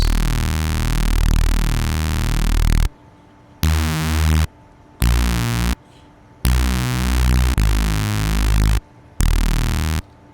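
Loud, dense neuro bass synth programmed in Logic Pro for iPad, playing choppy rhythmic bursts of gritty, harmonically rich tone separated by abrupt silent gaps.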